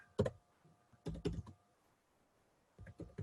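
Quiet typing on a computer keyboard comes in short, close clusters of rapid key clicks, separated by brief pauses, with no talk.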